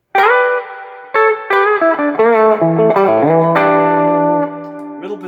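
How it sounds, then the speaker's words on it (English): Clean electric guitar notes and chords on a T-style guitar ring out through an amp with audible reverb, each plucked phrase sustaining and decaying with a washy tail, loud and close with no talking. "You can hear the reverb on the amp."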